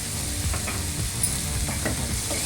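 Tomato-based egg curry masala frying in oil in a pan, a loud dense sizzle with stirring scrapes throughout, close and continuous with no talking.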